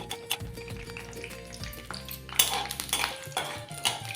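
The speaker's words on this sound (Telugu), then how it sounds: "నూనె కొద్దిగా వేడెక్కగానే మనం తీసి పెట్టుకున్న పల్లీలు ఉన్నాయి కదా, వాటికి వేసుకోవాలి." Peanuts frying in hot oil for old-style lemon rice, with metal pan and utensil clatter and steady sizzling, close and moderately loud with no talk.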